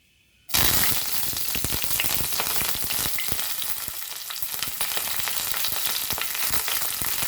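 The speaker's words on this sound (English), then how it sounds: "here the remaining are getting fried" Prawns frying in a pan with curry leaves, a steady loud crackling sizzle that bursts in abruptly after a short quiet start and keeps up with dense popping for several seconds.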